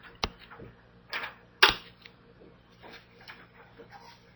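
Sharp plastic key presses on a graphing calculator, a few isolated clicks with one louder tap, close by and alone in a quiet room.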